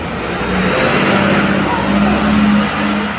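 A bus pulls away from the stop at Château de Vincennes in Paris with a rumbling engine that swells and fades slightly over a few seconds, nearby and fairly loud.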